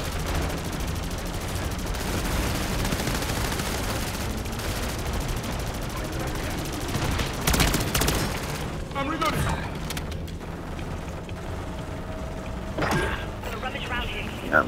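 Rapid gunfire from shooting zombies in the video game MW3 Zombies, a dense, continuous burst of shots and booms throughout, with speech mixed in under the fire.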